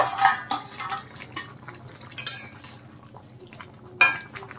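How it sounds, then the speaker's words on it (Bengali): A metal lid clinks and scrapes as it comes off a pot of simmering fish curry with potato and cauliflower, a few sharp utensil knocks over a low bubbling background. "এখন ঢাকনা উঠিয়ে দেখে নেব।"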